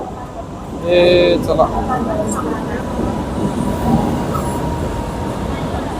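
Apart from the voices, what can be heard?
express train arriving at Bandra Terminus station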